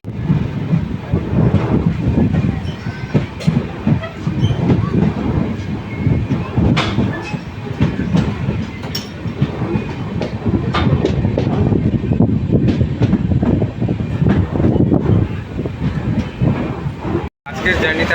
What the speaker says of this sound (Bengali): আমরা তিনজনে একসঙ্গে জার্নি করছি হাওড়া বালুরঘাট এক্সপ্রেসে।